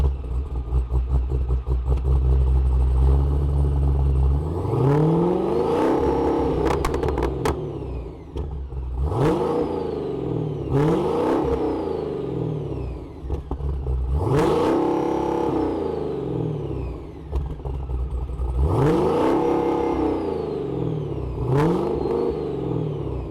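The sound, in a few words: exhaust note of 1,200 horsepower Dodge Demon Apocalypse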